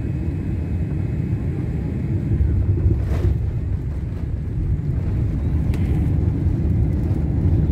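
An airliner touches down at Bali's Ngurah Rai airport in Denpasar after a final approach along the coast, heard from inside the cabin as a steady, heavy low roar of engine and wind noise with a couple of faint bumps.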